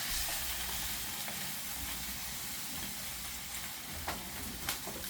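Liver steaks frying with onions in a pan, a steady close sizzle and hiss throughout with occasional sharper pops and spits, no voices.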